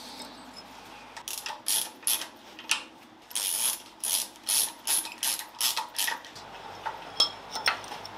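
Ratchet wrench clicking in repeated bursts as it tightens an alternator bracket on a Caterham Super Seven engine being assembled, crisp close metallic ratcheting strokes with brief pauses between sets, no talk.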